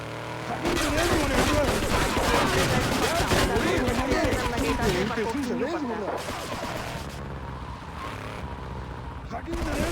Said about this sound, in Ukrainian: Із-за того, що машину просто обстрілюють нахрін.